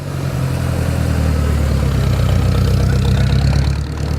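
A rare vintage racing car engine, one of only four built, running at a steady loud rumbling idle, close up and continuous with no voices.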